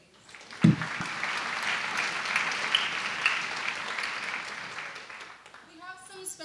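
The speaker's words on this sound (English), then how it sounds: "A round of applause for Ms. Vega, please" An audience applauds publicist Jessica Vega at an arts festival evening, a sustained wash of clapping after a sharp bump at the start, dying away as a voice begins speaking at the end.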